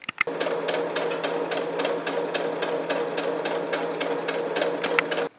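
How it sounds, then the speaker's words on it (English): A sewing machine stitches along the edge of a crocheted petal piece for an amigurumi Great Dane, giving a steady close-up whir with rapid rhythmic stitch ticks that runs for about five seconds and stops abruptly, with no talking. "So I lined up the side of my petal on the sewing machine right along the edge"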